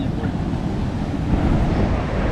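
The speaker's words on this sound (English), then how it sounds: "So this is Flinders Beach just before high tide." Surf rolls in at Flinders Beach on Stradbroke Island just before high tide, a steady, close, full roar of breaking waves mixed with wind buffeting the microphone, with no voices.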